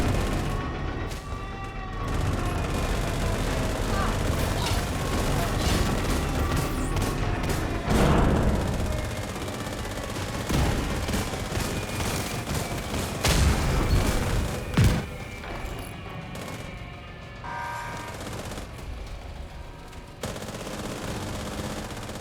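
Intense gunfire and autocannon fire in the video game The Division 2: rapid overlapping automatic bursts, heavy booming impacts and sharp single shots, loud and continuous with no talking.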